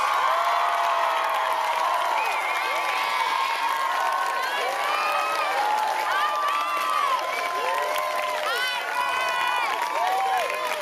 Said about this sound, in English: Give those students a round of applause.